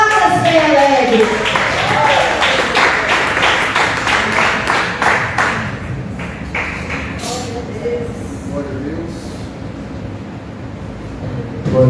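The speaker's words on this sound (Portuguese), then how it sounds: "Receba o servo do Senhor com palmas bem alegres." A church congregation claps hands in quick, rhythmic claps during a service, loud at first and thinning out after several seconds, with voices speaking and calling out over it.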